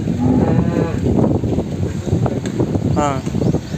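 Buffalo at the Erragadda buffalo market give low, drawn-out moos amid a busy, windy outdoor crowd, with people talking nearby throughout.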